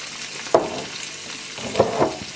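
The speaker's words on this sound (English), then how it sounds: "You want it to just gently be frying at this point." Ingredients frying gently in olive oil in a pan for pasta al tonno, a soft steady sizzle with a few brief louder spatters or stirring knocks, close and without voices.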